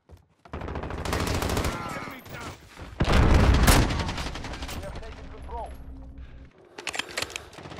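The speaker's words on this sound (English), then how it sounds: "He shot him." Bursts of video game gunfire, including rapid automatic volleys, from a sniper-rifle shooter match, loud and close with broadband cracks and rolling echoes; players talk and react excitedly over the shooting.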